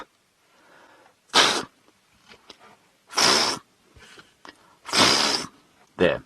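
A person imitates a topi antelope alarm call with a few sharp, loud, snorting bursts spaced about two seconds apart, close by, with quiet murmurs between them.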